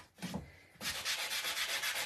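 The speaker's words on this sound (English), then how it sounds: "So just gonna sand off those burn looking edges." Hand sanding burn marks off the edges of a wooden gnome craft: a short rub, a brief pause, then steady back-and-forth scratchy strokes in a quick rhythm, close and fairly loud.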